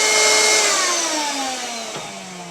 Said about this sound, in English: Leave your vacuum on for a few minutes while the plastic cools.